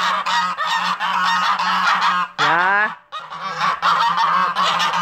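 Domestic geese honking in alarm behind a garden fence, a loud close chorus of harsh repeated calls continuing throughout with a brief drop in the middle, and a voice speaking briefly.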